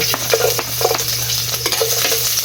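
Garlic dropped into a hot frying pan sizzles steadily, loud and close, with a few stirring scrapes and clinks over the hiss and a low hum beneath.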